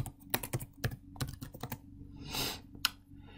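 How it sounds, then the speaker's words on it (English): A short search is typed on a computer keyboard: a handful of distinct, close key taps in an uneven rhythm, then a softer rustle and one final tap, with no talk. "So I can type in strawberry."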